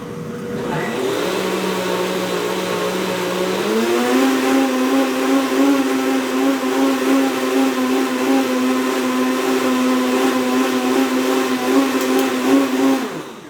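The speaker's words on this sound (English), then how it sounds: "Just hit your blender." A countertop blender with a vented cap running in a home kitchen, a loud sustained motor whine that steps up in pitch after a few seconds and then holds steady for a long stretch before easing off.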